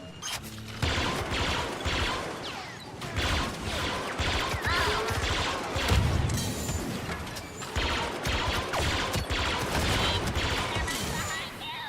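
Blaster fire in Star Wars Battlefront 2 crackles in rapid bursts of sharp shots throughout, loud and dense, mixed with impacts and battle clatter.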